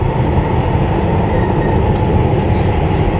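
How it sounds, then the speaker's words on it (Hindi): A Kanpur metro train in motion produces a loud, steady rumble of wheels and cabin noise heard from inside the carriage, with a faint squeal near the middle. "अब पूरी मेट्रो खाली है पूरी खाली है गाइस।"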